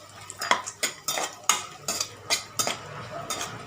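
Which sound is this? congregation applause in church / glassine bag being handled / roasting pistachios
roasting pistachios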